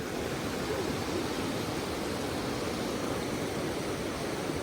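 A flooded creek running deep and high over its usual small channel after a flood, a loud, steady, broadband rushing roar of water with no pauses and no voices.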